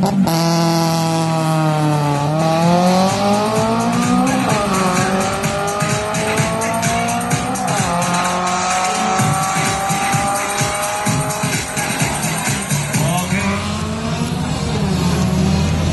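Race cars roar through a circuit at the Araw ng Davao racing event, a loud sustained engine whine with rising and falling pitch as gears shift, overlapping engines and occasional tire squeal, close and continuous without talk.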